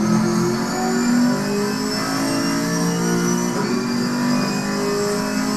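A GT4 race car engine in the video game Assetto Corsa Competizione drones steadily at mid pitch, holding a sustained tone with slight shifts in revs, loud and continuous throughout.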